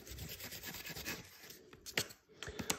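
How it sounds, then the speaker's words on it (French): A hand file rasps back and forth over a wooden pinball part, close and fairly quiet, a continuous rubbing scrape with a few sharper strokes near the end, no talking. "Alors, toujours le petit coup de lime."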